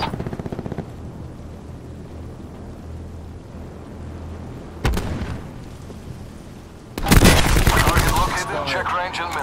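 Video game gunfire bursts into a dense, loud volley near the end after a single sharp shot midway, with a quieter stretch of background noise and game sounds before it.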